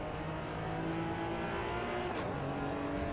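Race car engine in Assetto Corsa Evo, a steady loud drone with layered harmonic tones, holding a sustained note with slight pitch shifts and no pauses throughout.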